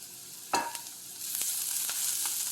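Curry leaves drop into a pan already frying onion, green chili, garlic and fennel, a sharp burst of crackle at the start that settles into a steady, fairly loud sizzle with light stirring scrapes.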